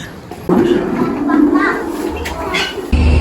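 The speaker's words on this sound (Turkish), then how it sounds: "güvercin cennetine geldik. Bir sürü güvercin var." Pigeons coo in a spot crowded with many birds, the soft murmuring coos running steadily under nearby talking, with children's voices and general outdoor bustle around.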